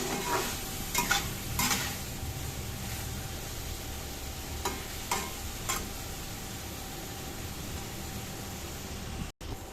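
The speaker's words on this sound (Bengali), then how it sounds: "টমেটোটাকে ভালো করে ভেজে নিতে হবে, লাল লাল করে।" Steady frying sizzle of tomatoes in a pan with a few sharp scraping strokes of stirring, close up and continuous, with no voices.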